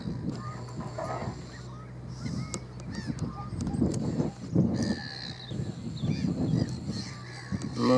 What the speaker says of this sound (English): More gulls here.